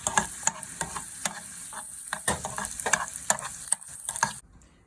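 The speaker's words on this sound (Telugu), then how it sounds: "తర్వాత ఒక స్పూన్ కిస్మిస్ వేసుకొని ఫ్రై చేసుకోవాలి." A spoonful of raisins fries in a pan for sago payasam, with a crackling sizzle and quick repeated spoon scrapes that stop abruptly near the end.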